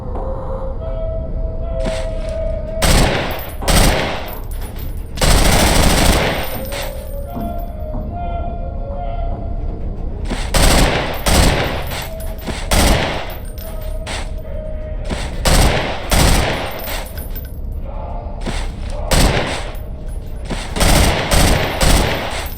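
Gunfire in the video game Underhell while shooting at popped-up targets: loud bursts of rapid automatic fire alternating with single booming shots, repeated across the stretch, with brief quieter gaps between volleys.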